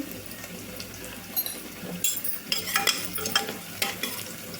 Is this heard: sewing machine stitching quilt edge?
no